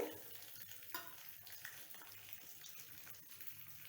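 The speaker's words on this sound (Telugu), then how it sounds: "అల్లం పచ్చిమిరపకాయలు వేయించుకోవాలి." Ginger and green chillies frying in ghee for hot pepper pongal, a steady soft sizzle with occasional stirring clatter close by, no talking.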